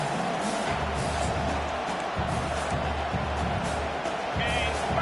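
A home crowd at a Michigan vs Notre Dame college football game roars steadily on third down, a broad continuous cheer with a commentator talking over it.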